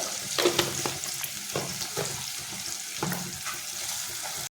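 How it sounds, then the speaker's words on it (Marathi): Tomato sautéing in a pan with a pinch of turmeric: a steady close sizzle with repeated scraping stirs and spoon clicks, no voices. "हे सुद्धा आपला टॅमॅटो व्यवस्थित आतमध्ये परतून घ्यायचा आहे"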